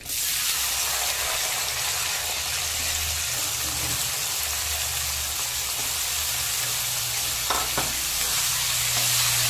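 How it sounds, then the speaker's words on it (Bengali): Chopped onion with cumin seeds fries in hot oil for a chicken and potato curry, giving a loud, continuous close sizzle and hiss with faint stirring clatter. "পেঁয়াজটাকে এবার হালকা ব্রাউন করে ভেজে নেব।"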